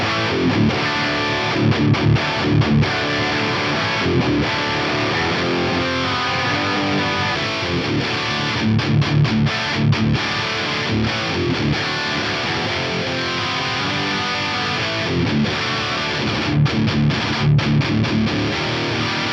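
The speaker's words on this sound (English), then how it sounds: "This is a PRS DGT in drop D." Heavy, distorted electric guitar, a PRS DGT in drop D through an ENGL Savage high-gain amp, plays low, chunky palm-muted riffs with sustained chords, loud and continuous with no voices.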